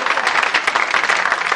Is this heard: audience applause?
yes